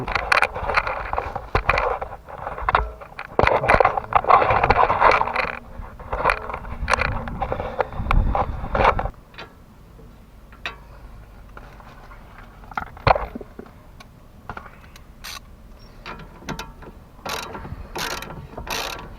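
A ratchet drives in a stabilizer link bolt on a BMW E46 3 Series, with long runs of rapid, loud, close metallic clicking, then quieter scattered clicks and sharp ticks toward the end.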